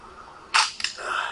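A mystery box in a custom zombie map video game opens with a sharp metallic clatter followed by a short run of clicky rattling pops, brief and close.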